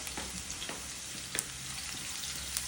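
Onions are stirred and fried in a pan, cooking a prawn dish: a soft continuous sizzle with occasional spatula scrapes, no speech.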